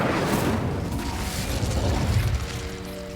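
Incendio fire spell cast in Hogwarts Legacy on PS5, a loud, sustained roaring burst of fire and booming magic lasting throughout, with no talk over it.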